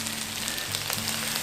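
Slices of vegan meat substitute sizzle steadily in a hot pan, a close, even crackle with a faint low hum beneath and no talking.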